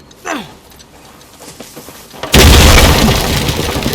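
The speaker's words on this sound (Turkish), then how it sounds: "Kapıyı açtım. Çok ses çıktı." A heavy door bursts open loudly in the game Uncharted 4: A Thief's End, with a sudden broad crash and roar that stays loud and sustained after faint game sounds and scattered clicks.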